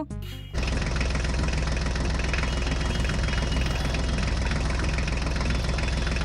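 A Ford tractor engine catches and settles into a loud, steady idle with a dense, knocking low rumble that runs unbroken for several seconds.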